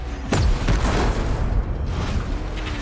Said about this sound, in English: That's several tons of metal slamming down upon you